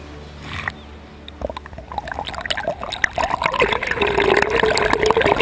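Sea waves wash in toward an eroding coastal village near the port of Paradeep, a steady watery rush and trickle that builds from quiet to a louder, continuous churn.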